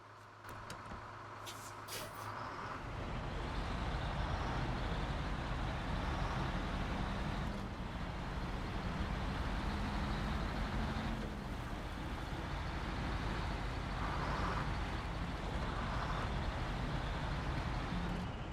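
A heavy truck towing a trailer in SnowRunner, Michigan's Black River area, on highway tyres: a steady, loud engine and road rumble that holds through the whole stretch after a brief rattling start.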